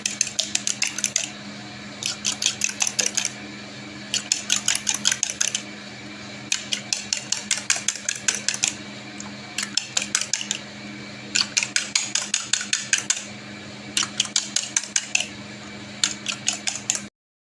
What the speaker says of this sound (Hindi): तो हम इसको अच्छे तरीके से फेंट लेंगे।